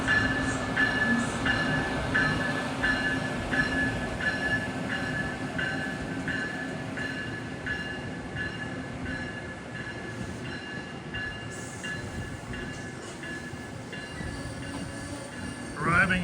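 A SEPTA train rumbles and rattles steadily as it arrives at Trenton station, with faint wheel squeal and rhythmic clicking over a continuous rolling drone, heard from a distance.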